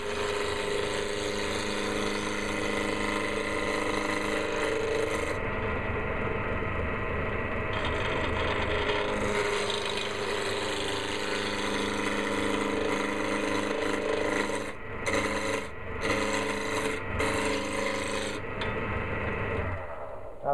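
A wood lathe turns a small earring holder, giving a continuous humming whir with scraping tool contact throughout, then brief interruptions and dropouts near the end as the cutting pauses.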